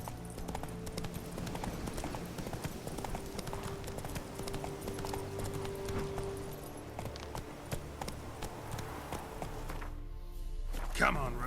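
Roach, the horse in The Witcher 3, gallops in steady, rhythmic clip-clop hoofbeats mixed with game ambience, with a brief louder thud near the end.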